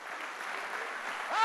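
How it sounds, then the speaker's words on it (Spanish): Brief burst of steady applause from a church congregation, a soft, even wash of clapping that swells slightly at the end. "denle un fuerte aplauso a Jesucristo"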